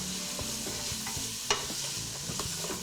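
Sausage seasoned with Italian spice mix is stirred in a hot frying pan, a steady close sizzle broken by repeated scraping and clacking strokes of the utensil, with no talk.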